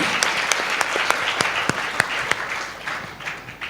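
A congregation at a Sunday church service claps loudly and steadily for several seconds, a dense close burst of applause with sharp individual claps standing out.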